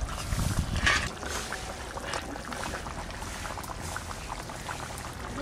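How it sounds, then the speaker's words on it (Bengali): A pot of village-style red mrigal fish curry with garden potatoes bubbles and simmers close by, with a louder gurgling burst at first that settles into a steady soft boil. "আর একটু ফুটবে, ফোটার পরেই নামাই।"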